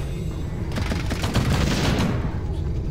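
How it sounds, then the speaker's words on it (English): Mortar fire in a Warcraft III match between Human and Undead teams, a dense rattling burst of rapid explosive shots building and fading over a few seconds, loud and continuous. "That is a lot of mortars."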